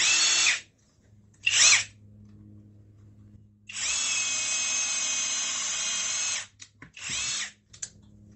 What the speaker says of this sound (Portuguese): Broca de 6 milímetros em alta rotação.